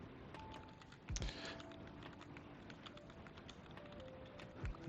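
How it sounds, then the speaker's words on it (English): Quiet, steady typing on a computer keyboard during an Angular programming session, soft rapid key clicks with a few louder thumps, faint and distant-sounding with no voices. "hopefully we will improve my typing abilities"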